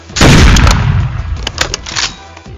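Loud sniper fire in the Roblox shooter Hypershot: one heavy close shot with a booming tail, then a scatter of sharper bursts and bangs trailing off.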